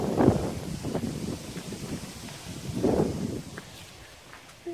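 Gusty wind buffets the microphone in low rumbling bursts, with a faint rustle between gusts.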